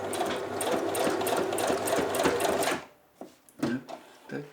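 A sewing machine stitches a jockstrap in a fast, loud, steady run, then stops and gives a few short clicks and thumps as the fabric is turned around the needle.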